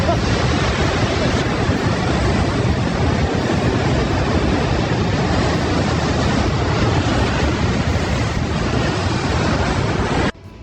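Large 15 to 20-foot ocean waves surge and crash along the California coast near Santa Barbara and Ventura, a loud, continuous roar of surf and spray that stays dense and unbroken before cutting off abruptly at the end.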